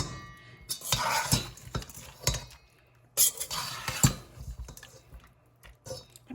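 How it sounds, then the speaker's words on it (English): A pierogy salad is tossed gently with dressing, onions and tomatoes. Wet, squishy stirring comes in bursts, with utensils clinking against a bowl at close range and short pauses between. "Very gently, kind of try to toss it with all the dressing and onions"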